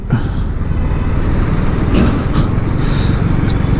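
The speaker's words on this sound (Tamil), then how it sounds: "இந்த டைம்லேயே இவ்வளோ டிராஃபிக் இருக்குதுன்னா கொஞ்சம் இமேஜின் பண்ணி பாருங்கள்." Busy road traffic in Bengaluru gives a loud, constant rumble of engines close by, with passing vehicles swelling and fading and faint horn-like tones. Nobody speaks.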